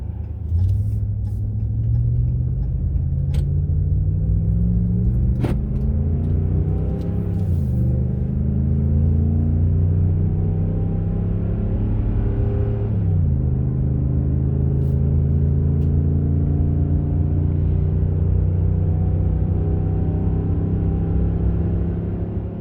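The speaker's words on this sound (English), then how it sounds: "there's got to be a break in traffic" Road traffic passes close by in a steady, loud stream, several vehicles rumbling and whooshing past one after another with engine tones rising and falling, heard from a roadside on a northbound trip.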